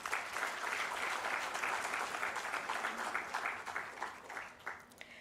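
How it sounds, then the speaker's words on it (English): A conference audience at an arbitration panel session applauds Justice Kariel: steady, dense clapping that holds for several seconds, then thins and tapers toward the end, with no voices over it. "A warm round of applause for Justice Kariel."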